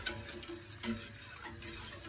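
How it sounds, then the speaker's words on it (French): Soft, steady stirring and scraping in a pan, faint and continuous, with a light background hiss. "Et je viens touiller."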